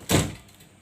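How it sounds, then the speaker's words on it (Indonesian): A door shuts in a clinical examination room, one solid thud close by that fades quickly into quiet. "Kita tutup tirai, lalu kita tutup pintu."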